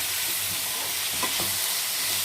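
Prawns frying in a pan coated with chicken 65 powder, a loud steady sizzle with a stirring scrape or two close up, no talk over it.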